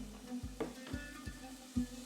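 Ketchup is stirred into a sizzling pan of cooking lentils, with about five close, distinct scraping strokes over a soft, steady frying hiss.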